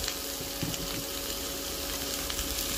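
Shallots and baby watermelon stir-frying in a pan, a steady broadband sizzle with faint scraping and tapping stirs running continuously throughout, close and moderately loud, with no voices.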